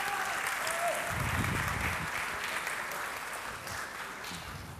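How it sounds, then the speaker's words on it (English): A festival talk audience in Rovinj breaks into a full, sustained round of applause, dense and even throughout and easing slightly toward the end. "a big round of applause"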